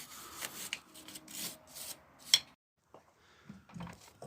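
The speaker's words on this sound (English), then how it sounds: "The wee wire brush there, it doesn't damage anything." A small wire brush scrubs the swinging arm of a Suzuki GS project motorcycle up close, in quick rhythmic rasping strokes that stop abruptly. A few fainter, scattered scrapes follow.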